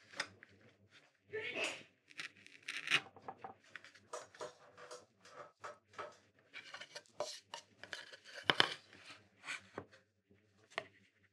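A knife carves into a woodblock for a postcard print, giving repeated scraping and clicking cuts in an irregular rhythm, close and moderately loud, with short pauses between strokes.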